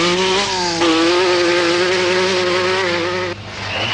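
Lancia rally car on a foggy 1979 RAC Rally stage, its engine droning loud and close with a steady high rev, a brief drop near the end before climbing again.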